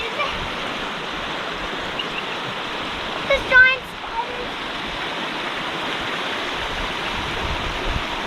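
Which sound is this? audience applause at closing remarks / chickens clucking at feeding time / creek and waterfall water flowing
creek and waterfall water flowing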